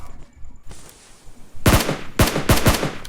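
Gunfire in the battle royale game PUBG Mobile: a loud, close burst of automatic shots follows a quieter stretch, with sharp cracks in quick succession and a second rapid volley near the end.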